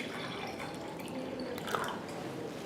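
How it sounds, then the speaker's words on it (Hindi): Water poured into a drinking glass, heard as a soft continuous liquid trickle with faint splashes and a small clink partway through, close by and fairly quiet. "तो सबसे पहले इस डेड वाटर को हम एक गिलास में डालते हैं।"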